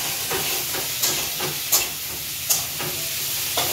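Food cooks in a pan with a continuous sizzling, steamy hiss, broken by a few sharper spatters, heard close up without talk.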